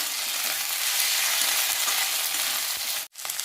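Ginger garlic paste fries in a pan with a dense, steady sizzle, close and loud for about three seconds before a brief drop, with faint stirring scrapes underneath and no talking.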